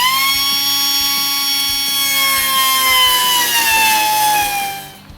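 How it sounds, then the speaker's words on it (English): An air-powered die cutter grinds loudly and steadily through the sheet-metal floor pan of a 1973 Ford F100 truck cab, a close high-pitched whine with a rhythmic chatter that tapers off at the end. "I'm going to cut it all out with the die cutter"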